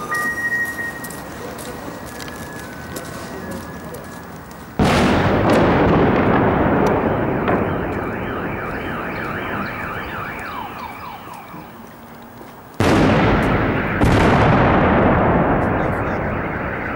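Two heavy mortar shell explosions boom a few seconds apart during shelling in central Donetsk, each followed by a long rumbling decay, with an alarm warbling in between.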